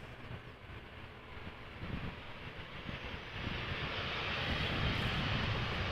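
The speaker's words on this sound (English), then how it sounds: "There's also this Transavia 737 arriving from Palma de Mallorca." Transavia Boeing 737 arriving at Amsterdam Schiphol Airport, a broad continuous jet engine roar that swells gradually louder over a few seconds, with no talk.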